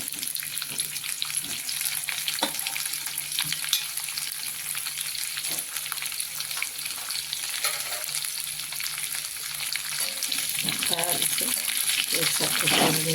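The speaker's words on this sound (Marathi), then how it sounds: "आता व्यवस्थित आता ह्या फोडी परतू द्यायच्या तेलामध्ये." Bitter gourd pieces sauté in hot oil with chopped coriander, a steady close sizzle broken by scraping stirs, with someone talking over the cooking.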